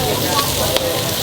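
Chorizo frying on a Blackstone griddle at the World Food Championship, a steady close sizzle with faint crackles throughout.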